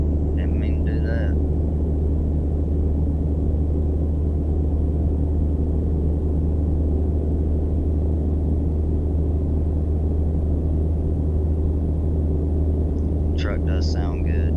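A Peterbilt truck in American Truck Simulator drones with a steady, low engine rumble that stays loud and constant throughout, with brief sharp sounds at the start and end.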